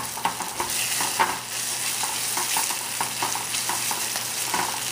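Tomato paste sizzles in a pan for a chutney, a continuous soft frying hiss with frequent light scrapes and taps from stirring, close and fairly quiet, with no one speaking.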